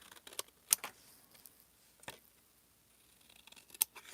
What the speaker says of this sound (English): And I'm going to go ahead and cut it out.